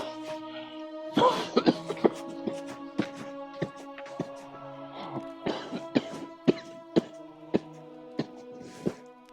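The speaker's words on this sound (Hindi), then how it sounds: "आज खांसी रुकने का नाम ही नहीं ले रही" A repeated fit of harsh coughs, close and loud, coming in bursts over a faint sustained musical drone.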